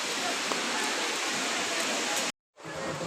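Steady rain pours on the mountain trek to Kedarnath, a loud, close, even wash of falling water that cuts out briefly near the end, then resumes.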